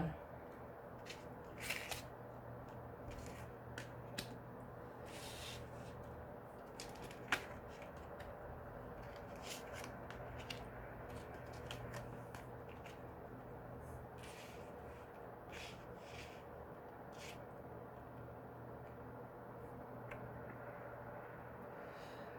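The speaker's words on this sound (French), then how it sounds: "Nous allons regarder le deck juste après, le temps de repositionner mes cartes." Tarot cards are handled and rearranged on a surface, making quiet, scattered flicks, slides and soft taps over a faint steady background hum.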